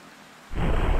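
Thunderstorm in the video game GTA San Andreas Definitive Edition: a quiet stretch gives way to a sudden loud rush of heavy rain and rumbling thunder.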